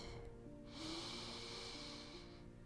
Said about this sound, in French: On inspire doucement par le nez.